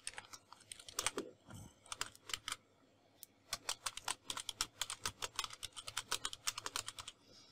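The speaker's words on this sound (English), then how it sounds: "Let me type one more." Typing on a computer keyboard: quick bursts of close, crisp key clicks with short pauses between them, then a faster run of steady tapping, with no voices.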